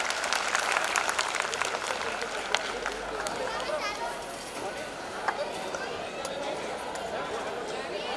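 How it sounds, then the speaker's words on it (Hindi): A crowd claps loudly and continuously at a December 31st carnival celebration, with a layer of chatter and voices mixed into the steady applause. "खूब बजाओ तालियां ये सच्चे हकदार"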